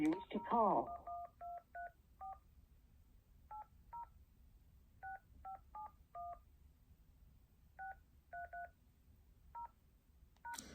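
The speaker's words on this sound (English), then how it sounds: "So I'm calling you on direct line now." Telephone keypad tones sound in quick pairs and short bursts spread over several seconds while a number is dialed on a phone line, clear but fairly quiet, after a brief chirp of speech at the start.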